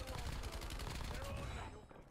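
Gunfire in the Call of Duty: Black Ops 7 video game: rapid, rattling bursts of automatic weapon fire, fairly quiet and continuous, tailing off toward the end.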